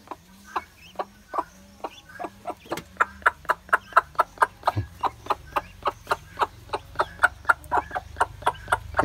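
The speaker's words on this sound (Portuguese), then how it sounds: "Você vai chamar eles." Chickens clucking on a farm smallholding, a close, rhythmic series of short, evenly spaced clucks repeating steadily with no talk over them.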